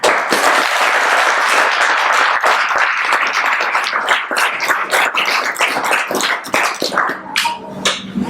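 Audience applause at a high school wrestling post-season banquet: dense, steady clapping from a room full of people that carries on for several seconds and breaks into scattered individual claps toward the end, with no talk over it.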